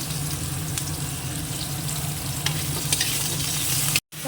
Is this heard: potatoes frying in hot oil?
yes